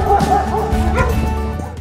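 Several dogs bark and yip excitedly, loud and close, with short overlapping bow-wows and a whimpering edge throughout.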